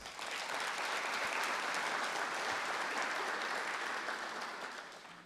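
An audience at a school system's state-of-the-system address breaks into steady applause, a full, even wash of many hands clapping that holds for several seconds before tapering off, heard from some distance.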